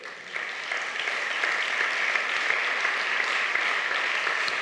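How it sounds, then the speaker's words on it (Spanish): A church congregation bursts into sustained applause for the king, a dense wash of many hands clapping that swells quickly and holds steady throughout. "¿Cuántos le dan un aplauso al rey?"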